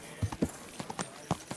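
Horse hooves clip-clopping in the video game Kingdom Come Deliverance 2, a handful of uneven, fairly close thuds over a faint background, with no talk.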